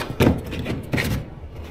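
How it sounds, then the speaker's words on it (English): Two short knocking thuds about three-quarters of a second apart as a lid is pushed back onto a plastic container holding about 45 liters of SH chemical, close by in a quiet outdoor setting. "And then just gotta put the lid back on."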